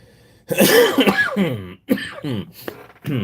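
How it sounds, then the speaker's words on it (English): A person with allergies coughs and clears their throat up close in a loud, rough burst, followed by a few more hoarse throaty sounds. "Coughing and blowing my nose a lot lately."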